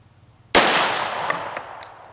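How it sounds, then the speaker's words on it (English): A single sharp pistol shot fired at a target ten yards away, loud and close, with a long ringing decay and a faint metallic ping near the end. "This shot's going to be from 10 yards out."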